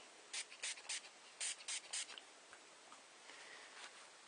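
Six quick hissing spray pumps of cleaner onto a makeup brush in two sets of three, close and crisp, followed by faint rustling.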